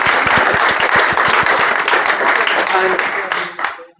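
An audience at an event breaks into loud, sustained applause, with dense clapping that holds steady and then fades out quickly at the end. A voice is briefly heard over it.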